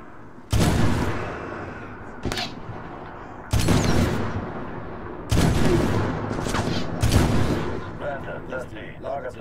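Loud gunfire bursts erupt in Medal of Honor Tier 1, several separate volleys of rapid shots and heavy blasts spread over the stretch, with a voice talking through the action.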